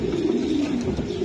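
Racing pigeons coo close by in a brief, continuous low throaty murmur.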